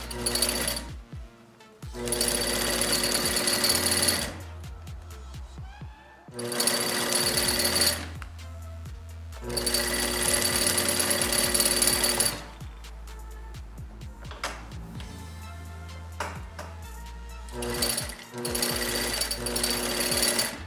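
Hat panels are stitched together along a curve on a sewing machine, heard as loud rapid mechanical chattering in several bursts of a few seconds each, separated by short pauses.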